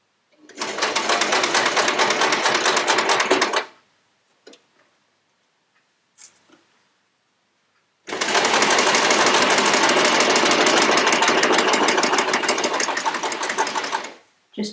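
An electric sewing machine stitches quilt fabric pieces along a bias edge in two loud, rapid bursts of even needle clatter, separated by a pause with a few faint clicks.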